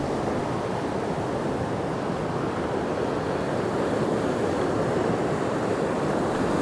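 Ocean surf breaks against rocks in a steady, loud roar of churning white water, with wind buffeting the microphone throughout and no voices.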